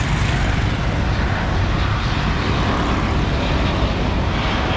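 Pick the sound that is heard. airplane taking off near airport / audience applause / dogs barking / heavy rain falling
airplane taking off near airport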